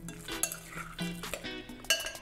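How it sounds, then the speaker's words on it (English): Meatloaf ingredients stirred together with a spoon in a bowl, a short run of close clinks and dull scrapes with a couple of sharper knocks, no voices. "we're gonna take a spoon and just mix it all together"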